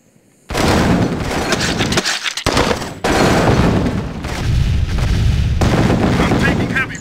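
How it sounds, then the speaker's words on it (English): Dense, continuous artillery and machine-gun fire in a battlefield video game, loud and sustained with heavy booms and rapid volleys after a brief quiet start, with brief shouted voices mixed in. "I'm taking heavy fire."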